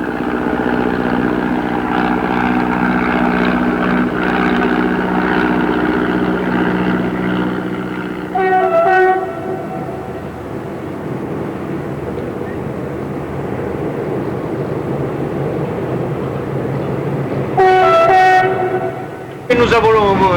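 Tourist train rumbling steadily nearby, its horn sounding two short blasts, one midway and another near the end, over the low rolling drone of the cars.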